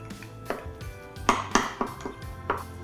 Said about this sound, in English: you can start to help those berries break down a little bit faster by mashing them with the end of your wooden spoon